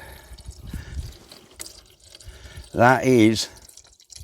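Milky, water-contaminated oil drains from an old tractor in a soft, steady trickle and pour, faint beneath someone talking over it.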